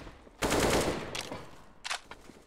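Gunfire in the game CS:GO comes as a short burst of automatic shots followed by a couple of sharper single cracks, moderately loud and close.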